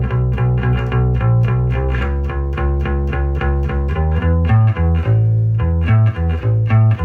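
Electric bass plays a variation of a riff, with steady, loud, distorted and chorus-tinged notes in a repeating rhythmic pattern, alone without talk.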